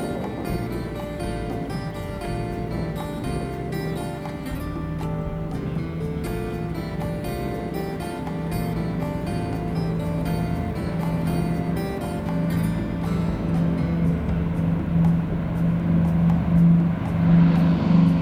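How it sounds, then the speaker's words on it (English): Boeing B-29 Superfortress bomber FiFi takes off and flies over with a steady, heavy piston-engine drone and humming harmonic tone that swells louder toward the end, with no talking. "we'll end with a very expensive shot of a B-29 takeoff and flyover"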